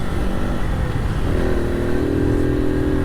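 A small Suzuki motorcycle accelerates through the gears from a helmet-mounted microphone, with a loud steady engine drone rising in pitch under wind rumble.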